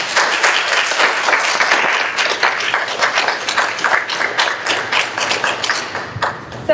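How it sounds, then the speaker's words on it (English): Steady audience applause for an artist at the close of an artist talk, dense clapping filling the room for several seconds with a few sharper claps standing out. "Can we give her another round of applause?"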